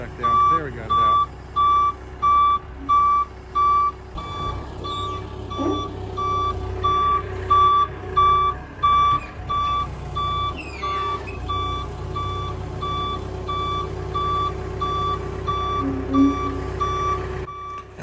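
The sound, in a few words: forklift reversing beeps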